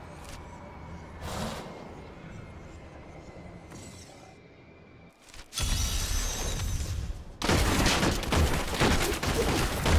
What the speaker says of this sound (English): Grenades. 2 grenades.